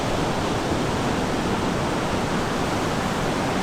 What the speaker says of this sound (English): the waves coming in straight off the Atlantic